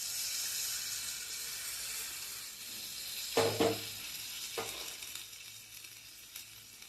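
Poppy seed paste sizzles steadily as it is sautéed in a pan for a ridge gourd, potato and drumstick poppy seed dish, with a couple of louder stirring scrapes partway through and no talking.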